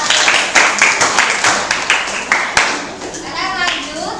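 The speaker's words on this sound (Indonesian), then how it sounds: "beri tepuk tangan buat kelompok 2" A classroom of students claps for a presenting group, rhythmic near clapping with a few sharp louder claps, children's voices chattering underneath and a teacher speaking at the end.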